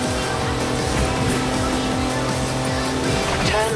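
A Mercedes wagon on knobbly tyres driven off-road in Forza Horizon 4, a steady loud engine drone with shifting gear tones and tyre scrabble throughout, close and continuous.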